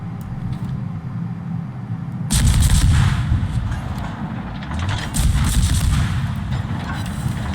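Tank gunfire in a video game comes as a heavy booming blast about a third of the way through, then rumbling roar and a second burst later, set over a low engine drone.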